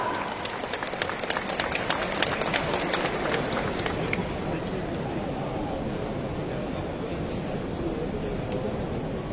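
Large audience applauding steadily at a Democratic Party convention in a big hall, a dense, continuous wash of clapping held at an even level throughout.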